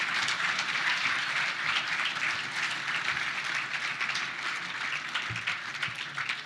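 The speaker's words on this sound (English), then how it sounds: "A big round of applause for our Coach of the Year." Dense, steady applause from an audience at a 2019 NAB League football club awards night, honouring the Coach of the Year. It fills the whole stretch as a continuous close wash of many hands, with no voices standing out.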